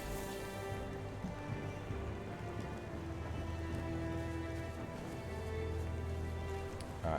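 Rain falls steadily in the fantasy video game Tainted Grail, a soft continuous patter under a low ambient music drone, with faint hoof-like clopping in the background.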